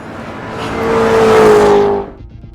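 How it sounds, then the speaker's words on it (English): A Corvette Z06 with a 7-liter American V8 races past on a track, its engine roar building loudly, peaking close by, then dropping away fast as the car passes. "There's something about a 7-liter American V8, which is just so visceral."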